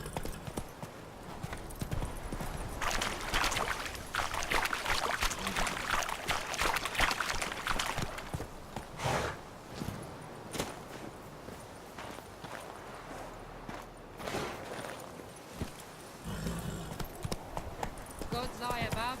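Horse hooves clip-clop steadily through The Witcher 3 on PC at ultra settings, a busy, continuous patter of steps running the whole length, with voices talking over it.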